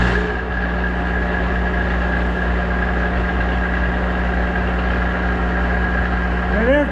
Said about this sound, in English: Extra rattle is the end gears.